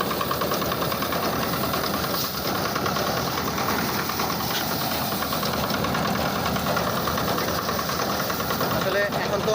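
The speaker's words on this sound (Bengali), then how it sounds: "এই যে দেখেন এখানে মাড়াই করা হচ্ছে মেশিন দিয়ে।" A threshing machine separates grain from paddy grown for pulao rice, producing a steady, loud mechanical drone with a rough engine-like rattle that runs unbroken from start to finish.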